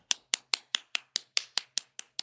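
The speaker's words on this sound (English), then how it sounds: "Clapping." Sparse, evenly spaced claps from a small studio audience, about ten sharp hand claps at a steady rhythm, fairly close and without talk.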